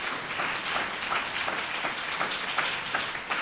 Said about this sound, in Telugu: ఒకసారి గట్టిగా చప్పట్లు కొట్టండి